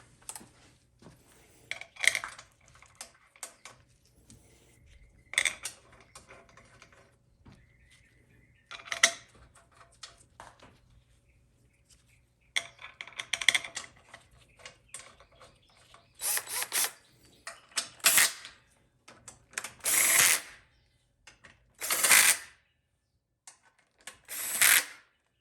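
Four half-inch bolts being run into a Ford C6 automatic transmission case with a hand ratchet, heard as repeated bursts of quick ratcheting clicks separated by short pauses, close and fairly loud with no talking.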